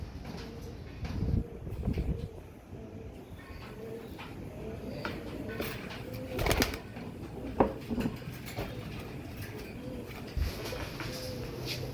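Tiger breed pigeons cooing in a loft, soft repeated coos and rustling with a few bumps and thumps, fairly close under low background noise.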